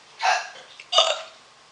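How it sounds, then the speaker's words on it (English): Two burps in quick succession, one put on deliberately and one real from a woman, each a short, close, loud belch with a brief quiet gap between them. "That's a fake burp from me and real from Mom."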